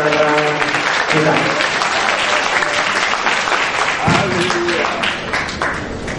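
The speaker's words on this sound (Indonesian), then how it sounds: "Tepuk tangan untuk semua pembicara kita." A crowd at a spectacular Islam-Christian debate claps for the speakers, dense and loud throughout, with a voice and some tonal sound audible beneath the applause.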